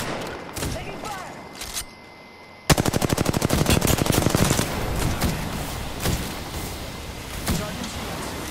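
Gunfire in the video game Apex Legends, a rapid automatic burst of evenly spaced shots that starts abruptly, loud and close, followed by scattered single shots and continuing battle noise, with a voice speaking at times.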